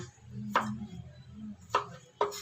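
Knife chopping onion and tomato on a board: three distinct close cuts spaced irregularly, quiet and sharp, with no talk.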